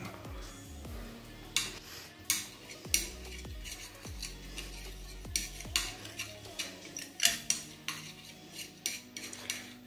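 Utensil repeatedly clinking and scraping against a metal pot while a bioplastic mixture is stirred and heated, with rhythmic close metallic taps throughout and no talking.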